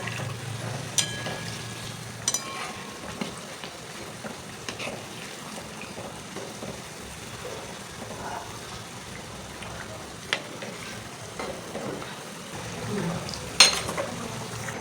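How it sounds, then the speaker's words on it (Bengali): Flour-based sweets fry slowly in oil over low heat, giving a soft, steady sizzle and bubbling throughout with a few faint utensil clicks, heard at moderate distance with no talking. "অল্প আঁচে আঁচে কিন্তু আমি ভেজে নিচ্ছি।"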